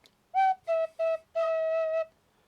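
A tin whistle plays a short phrase of the Swallowtail Jig, four clear, bright notes close by, the last one held longest, alone in a quiet room.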